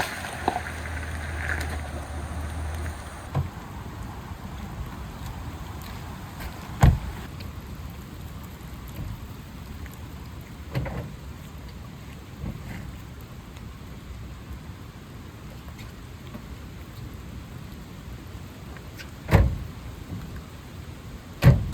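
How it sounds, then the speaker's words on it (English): Heavy Hurricane Ian rain beats steadily on a truck camper shell roof, a dense continuous patter with occasional louder drops and knocks throughout. "chill out with the rain beating down on the roof"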